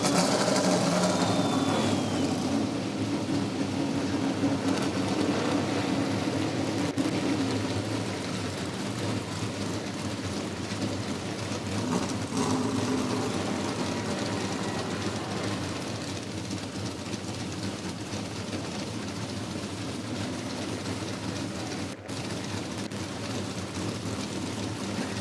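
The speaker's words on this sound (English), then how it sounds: "Racers, start your engine! Oh yeah, let's start them up." ASA STARS National Tour stock cars at Newport Speedway fire up together into a dense, steady rumble of idling engines, loudest at first and then settling into a continuous drone for about 25 seconds.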